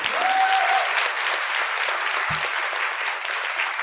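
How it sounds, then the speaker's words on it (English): An audience at the NIH Blueprint ENDURE annual scientific meeting gives student presenters a sustained round of applause. Steady, even clapping from many hands continues throughout the clip with no talking. "So one more round of applause."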